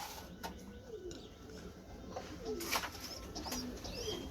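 Large fantail (pankhi) pigeons coo in soft, rolling, repeated calls, heard close by against a steady background hum with no talking.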